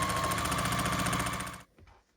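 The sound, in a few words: sewing machine stitching quilt pieces into rows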